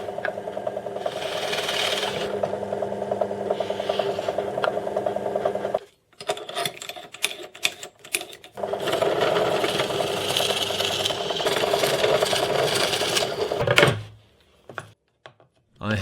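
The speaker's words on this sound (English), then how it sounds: "After doing this, I drill their hole to the same diameter as the bolt I will be using." A power drill bores bolt holes through plywood for mounting a workbench vise, whirring loudly in long sustained runs, with a brief pause and rattling handling noises between bursts before trailing off at the end.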